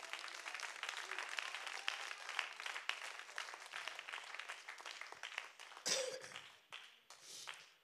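A church congregation claps hands during a worship service, soft and fairly distant, with scattered uneven claps and faint background noise.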